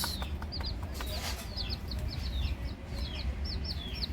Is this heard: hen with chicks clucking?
yes